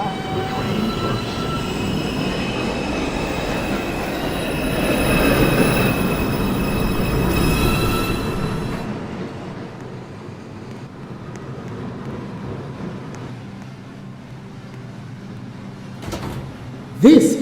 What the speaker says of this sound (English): Downtown. Express 2. Train. Approaching the station.